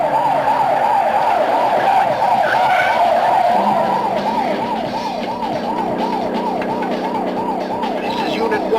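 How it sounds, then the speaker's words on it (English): Wailing ambulance siren in a police pursuit scene from a movie, loud and close, its warbling pitch cycling steadily over engine roar and tire noise with a brief skid partway through. "This is Unit 1 in pursuit of stolen ambulance."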